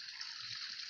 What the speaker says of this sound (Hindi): पानी तो बंद कर दे